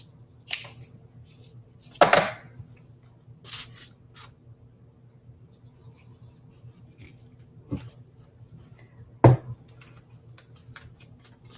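Scissors snip through a paper doily in a handful of sharp, separate cuts spaced several seconds apart, close and crisp over a faint steady room hum.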